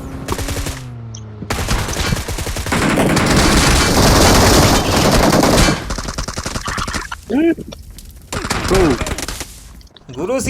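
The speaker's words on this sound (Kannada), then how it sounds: "ಗನ್ನು ಹಿಡ್ಕ ಹೊಡಿ." Dense gunfire rattles in the mobile battle royale game BGMI: a long sustained burst of rapid automatic shots, loud and close, followed by shorter volleys, with voices talking over parts of it.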